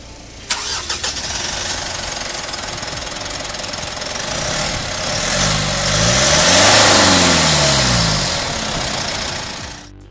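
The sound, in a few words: diesel SUV engine running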